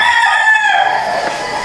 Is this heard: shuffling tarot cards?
no